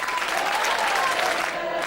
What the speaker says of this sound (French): ça, c'est les applaudissements